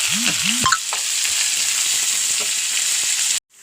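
Onions, garlic, ginger, curry leaves and green chillies sizzle steadily in hot oil, a loud continuous hiss with a couple of utensil scrapes at the start, then it cuts off abruptly.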